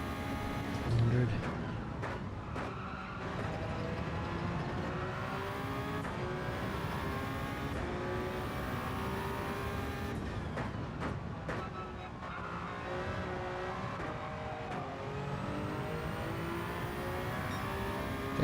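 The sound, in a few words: race car accelerating in video game Gran Turismo 7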